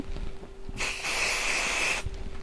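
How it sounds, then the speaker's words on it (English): 505 spray adhesive hisses from an aerosol can into a bin in one steady burst of about a second and a quarter, close and fairly loud, with quiet room sound before and after. "So if you've got 505 spray, I'm going to spray over my bin down here."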